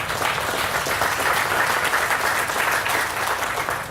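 An audience applauds at an airport announcement of a multimillion-dollar parking garage expansion, a broad, even wash of many hands clapping that holds steady from start to finish without talk over it.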